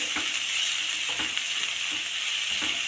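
Chopped onions sautéing in a pan for an all-in-one gravy, a steady close hiss of frying with a few soft scrapes and stirs underneath, no voices.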